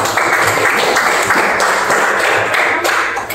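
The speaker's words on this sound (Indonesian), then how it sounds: "tepuk tangan untuk kelompok 2" A classroom of primary school pupils claps steadily for a few seconds, a dense burst of applause without any talking.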